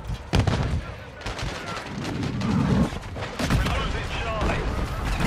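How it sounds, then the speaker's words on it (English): A stun grenade going off during a Modern Warfare 3 match, amid bursts of rapid gunfire and booming impacts, loud and dense with several sharp blasts, while players shout over the action. "Stun grenade out!"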